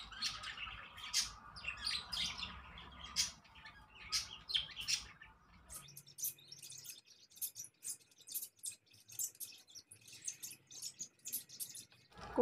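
Small birds chirp and tweet in quick, scattered bursts around a home, fairly close and clear at first over a faint background hum, then continuing as sparser calls against near silence.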